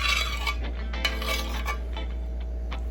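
Small pieces of guava tumble into a saucepan in a home kitchen, giving a quick run of light clinks and soft knocks of fruit against metal, close and clear over a steady low hum.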